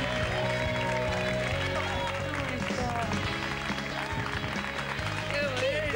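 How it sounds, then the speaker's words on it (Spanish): Studio audience applause welcoming guest Patricia Echegoyen on a television show, a steady, fairly faint wash of clapping that runs the whole clip under background music tones and some voices. "La señora que la recibimos con este fuerte aplauso, la señora Pata, Patricia Echegoyen"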